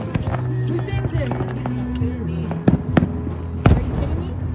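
A long fireworks show at an Oceanside celebration, with sharp bangs and crackles popping at irregular intervals over a steady crowd murmur and background music, people talking nearby.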